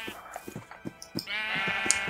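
Sheep in the video game Minecraft bleat in a run of short, rhythmic calls, loud and close, followed by a sustained tonal sound.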